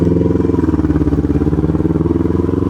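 A Kawasaki Ninja 250R with a carbureted engine and full fairing drones loudly and steadily while being ridden, its pulsing exhaust note holding an even throb close by throughout.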